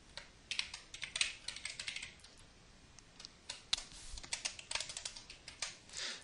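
C# code being typed on a computer keyboard: rapid, uneven bursts of light key clicks with brief pauses between runs, close and quiet, with no talking.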